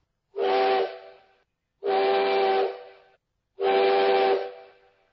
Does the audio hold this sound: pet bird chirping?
no